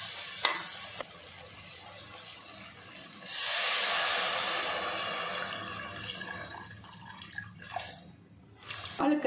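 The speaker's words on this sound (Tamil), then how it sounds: "இப்போ தண்ணி சேர்த்திடலாம்" Water splashes and hisses into a hot pot of sautéed onion and tomato for curry noodles for a few seconds, then settles into a softer bubbling sizzle with small drips and clinks.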